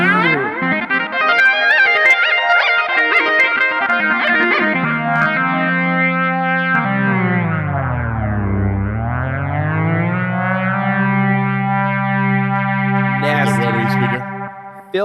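Yamaha YC organ FM synth lead with a perfect fourth stacked above the carrier, loud, buzzy and distorted, sustaining chords before a deep pitch bend swoops down and back up, ending with a bright burst.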